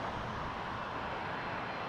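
An Air Canada Boeing 777-300ER airliner from London Heathrow roars at Toronto Pearson Airport, a steady broad jet-engine rumble at moderate distance with no talking.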